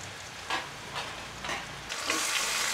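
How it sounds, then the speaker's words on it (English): Chopped tomatoes fry and get stirred in a pan for a spicy Sri Lankan rooster curry, a steady close sizzle with rhythmic scraping strokes roughly every half second. "we are adding some chopped tomatoes and stir them and mix everything well"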